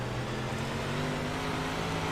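Dirt track race cars at Super Dirt Week roar steadily as a driver works the throttle through traffic, a loud, sustained engine drone with a fairly steady pitch.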